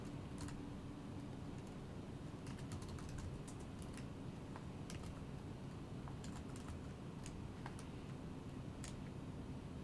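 Steady, rapid keystrokes on a computer keyboard while writing C++ code, sharp clicks in quick irregular bursts over a constant low room hum, no talking.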